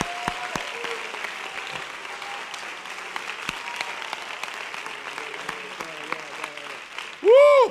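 Congregation clapping hands in church during a sermon: a sparse patter of claps under a preacher's voice, ending in a loud, brief burst.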